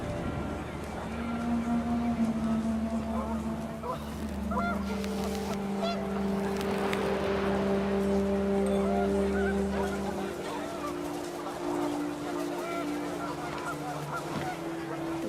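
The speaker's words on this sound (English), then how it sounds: "panicked geese appeared and quickly went" Geese honking in panic inside the video game What Remains of Edith Finch, a cluster of honks rising over steady music and wind, fairly loud and dense through the middle before thinning out.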